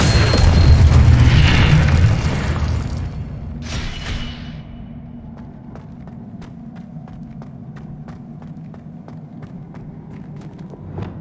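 Casting the Depulso spell in the video game Hogwarts Legacy sets off a loud, booming blast that fades over a few seconds, followed by quiet, rhythmic footsteps.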